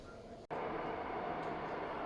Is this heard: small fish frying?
no